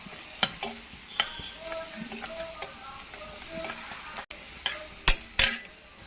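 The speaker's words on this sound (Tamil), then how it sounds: "நல்லா கோல்டன் ப்ரௌன் கலரில் வறுத்தங்க வெங்காயம்" Onions and garlic frying in a pan, a soft steady sizzle broken by scattered clinks and scrapes of a utensil stirring them, quiet and close with no voices.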